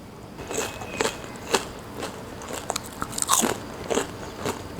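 Crisp bites and crunches into fried idli batter bonda with a crispy shell and soft inside, a series of close, sharp crackling snaps at an uneven rhythm.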